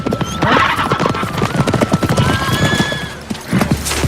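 Horses neigh and hooves clip-clop steadily in a medieval Holy Land setting, close and loud, with a whinny rising over continuous hoof beats and ambient bustle.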